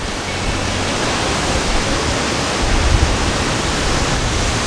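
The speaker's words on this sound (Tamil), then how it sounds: "இதுதான் வெர்னல் ஃபால்ஸ்." Vernal Falls waterfall in Yosemite National Park roars as a steady, dense broadband rush, loud and continuous throughout with no voices.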